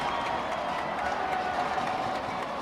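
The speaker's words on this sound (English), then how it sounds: "Crowd gets rowdy once again as we're now under 2 minutes to go here in the 2nd round." A crowd roars steadily at a 6A high school football playoff game between Lehi and American Fork, a dense, continuous wash of cheering and noise that holds at an even level throughout.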